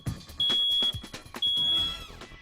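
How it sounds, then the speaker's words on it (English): A household smoke alarm being tested with its push button gives two loud, shrill electronic beeps, each about half a second long, separated by a short gap and backed by faint background noise. "push the button on your smoke alarm to make sure it's working properly"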